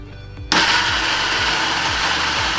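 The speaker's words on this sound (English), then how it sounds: "Get the lid on and get this blitzed." A kitchen blender whirs into life and runs loud and steady, blitzing a shashlik sauce made with ketchup instead of tomato puree, its motor droning continuously after a quiet start.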